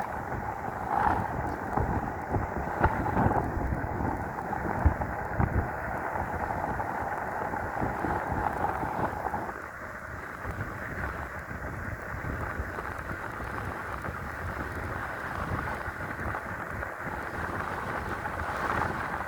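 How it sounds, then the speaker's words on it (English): Strong wind buffets the microphone in continuous gusty rumbles, easing slightly partway through but never stopping. "Yeah, it's pretty windy."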